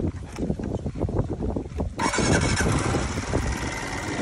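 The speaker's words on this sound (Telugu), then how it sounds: "ఒకసారి వెహికల్ స్టార్ట్ చేయండి." A two-stroke motorcycle engine is started, with a rough idle and a short squeal before it catches about halfway through and settles into a louder, steady running buzz, close by.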